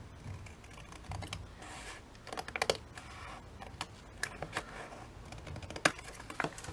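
Paper being cut with scissors for a junk journal, sharp snips and crisp rustling handling sounds at close range, scattered irregularly over quiet room tone without speech.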